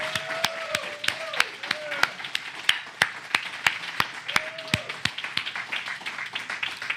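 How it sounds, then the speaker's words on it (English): Scattered, sharp claps ring out from an audience at a Sunday church celebration, spaced irregularly rather than a dense roar, with voices heard between them. "can we give Stephen Wise another round of applause?"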